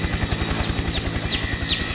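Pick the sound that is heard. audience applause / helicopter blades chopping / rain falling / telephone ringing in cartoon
helicopter blades chopping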